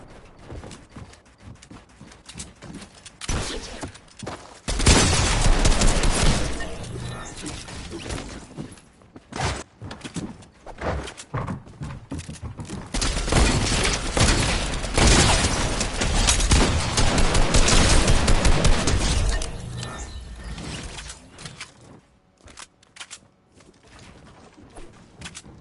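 MK assault rifle in the Fortnite video game firing in dense, loud bursts of gunfire, with heavy sustained volleys between shorter quieter stretches.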